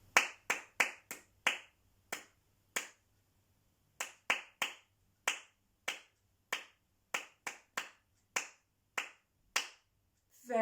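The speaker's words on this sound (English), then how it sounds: "Let's see if we can still clap it, say it in our heads and clap it with a missing box" A rhythm of sharp hand claps in a music lesson, played in short rhythmic groups separated by brief pauses that leave one beat silent. The claps are close, crisp and evenly spaced, with no talk over them.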